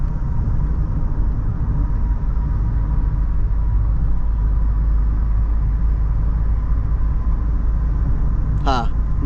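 Steady low engine and road drone inside a Maruti Suzuki XL6 automatic cruising on a highway at about 1600 rpm, constant and even throughout, with a brief chirp near the end.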